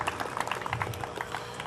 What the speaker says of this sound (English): how about a big round of applause for everybody involved in putting this together